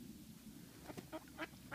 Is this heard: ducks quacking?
yes